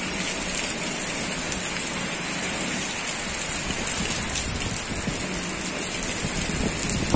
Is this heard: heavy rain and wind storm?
yes